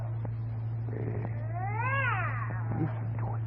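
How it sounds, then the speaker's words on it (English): A cat meows from behind a closed door, one drawn-out rising and falling wail over a steady low hum, with no talking. "that cat you got in there is violating the city ordinance"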